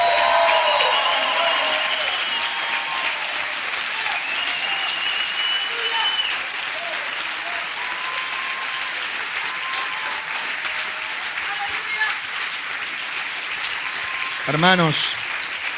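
A church congregation applauds vigorously in a long, continuous wave of clapping that slowly eases, with voices murmuring underneath and a voice speaking briefly near the end.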